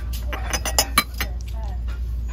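Wine glasses being handled in a box at a Salvation Army thrift store, several light clinks and knocks of glass against glass in quick succession over a low background hum.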